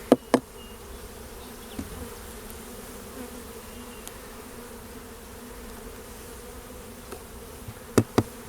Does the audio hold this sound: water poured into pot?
no